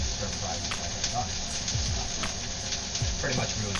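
Shredded cabbage sizzles and crackles steadily in hot oil in a wok, with scraping tosses of the vegetables at intervals as it stir-fries, the hiss continuous and close.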